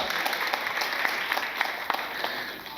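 Steady audience applause fills a hall at a college musical night as band members are introduced, a dense continuous clapping that stays loud and even throughout.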